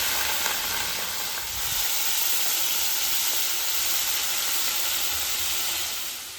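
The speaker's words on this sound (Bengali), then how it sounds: "তেল গরম হয়ে গেছে, আমি মাছটাকে কড়াইয়ের মধ্যে ছেড়ে দেব।" Turmeric- and salt-coated prawns fry in hot oil in a kadai (wok) for a ridge gourd prawn curry, giving a steady, dense, close sizzle throughout with no talking.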